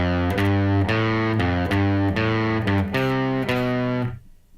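Bars 3 and 4 of a riff ring out on a heavily distorted electric guitar, a loud, close run of rhythmic chugging notes that ends in a short fade.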